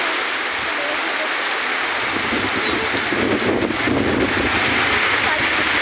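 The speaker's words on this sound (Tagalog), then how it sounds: "Gawa ng grabe ang lakas ng hangin, pati ang ulan." Strong typhoon wind buffets the microphone in loud, rumbling gusts over a constant hiss of rain, growing heavier partway through.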